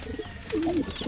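A pigeon in a loft gives a short, soft, low coo, heard up close against faint background noise.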